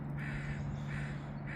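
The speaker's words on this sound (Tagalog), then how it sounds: "Papakinggan mo yung huni ng mga ibon." A crow caws in short repeated calls over a steady low background hum, moderately close, with no voices.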